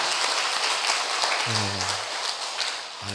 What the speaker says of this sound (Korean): 이해가 되시면 박수 좀 한번 쳐봐요.